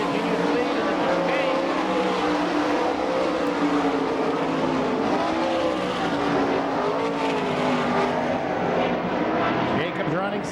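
Sprint race cars roar around a dirt track at the All Star Circuit of Champions in Franklin, PA, their engines droning loudly and continuously while a commentator talks over the race.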